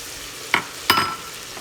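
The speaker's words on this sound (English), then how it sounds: "And we're going to stir that in so it coats evenly and cooks evenly." A spoon stirring flour into browning pork in a pan for green chile, two distinct scraping strokes over a low steady frying hiss, close and alone.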